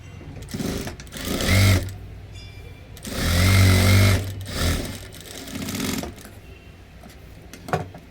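Sewing machine stitching a folded blouse fabric edge, its motor whirring in several loud bursts of a second or so, separated by short pauses and handling of the cloth.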